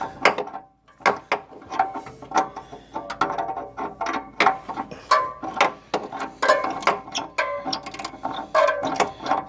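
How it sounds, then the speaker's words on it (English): A ratchet tightens the exhaust flex bolts on a 1.8L Toyota Celica during flange repair, repeated sharp clicking bursts in an irregular rhythm, close and clear with brief pauses between strokes. "Just need to tighten up the"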